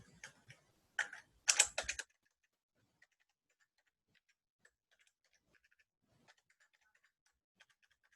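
User ID and password being typed on a computer keyboard, with a short burst of quick, close key presses in the first two seconds, then sparse faint clicks over near silence.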